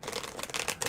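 A tarot card deck being shuffled by hand, giving a steady, close riffling flutter of cards for just under a second with no talking.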